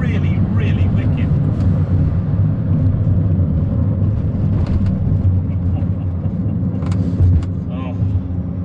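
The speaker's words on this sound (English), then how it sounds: "the noise from that wastegate is just wicked" A 400bhp R56 Mini running hard, its engine a loud, continuous low rumble with brief sharper bursts of wastegate chatter near the end, close and sustained throughout.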